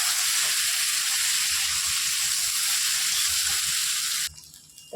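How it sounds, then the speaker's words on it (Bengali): Green banana and potato with green chillies fry in a pan, a loud close sizzling hiss that stays steady, then drops off suddenly near the end. "দেখো আমার কাঁচা কলার আলু লাল লাল করে ভাজা হয়ে গেছে"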